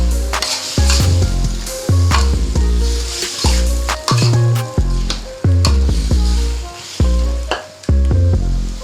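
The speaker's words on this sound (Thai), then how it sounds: "จากนั้นใส่กระชายลงไปครับ แล้วก็คนนะครับ" Fingerroot stir-fried in a pan for a spicy eel stir-fry, loud close sizzling with rapid repeated scraping and clanking of a spatula against the pan in a steady stirring rhythm, no speech.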